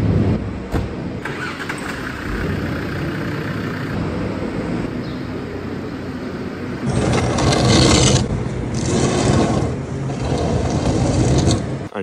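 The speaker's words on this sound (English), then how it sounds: "Shift Land Rover out the road so we can get at that trailer." Land Rover on a cattle farm being started and driven aside, its engine idling and then revving louder and rougher partway through, close by, with some scraping noises.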